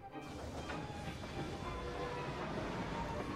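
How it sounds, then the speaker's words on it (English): A steady, dense rumble of a steam train running continuously in Assassin's Creed Syndicate, with broad mechanical noise and faint hissing throughout. "Drive the train! Would you be so kind as to get up some steam?"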